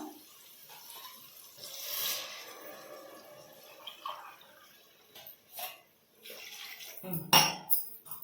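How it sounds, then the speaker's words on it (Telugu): Water runs into a pressure cooker for tomato pulao, a soft intermittent pouring and splashing with a few small clinks, fairly quiet and close, with no voices. "ఇందులో వాటర్ వేసుకున్నామండి. రైస్కి సరిపడా."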